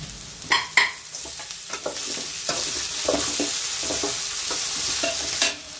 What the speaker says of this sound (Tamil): இப்போ இதெல்லாம் கொஞ்சம் நேரம் வதங்க விடுறாங்க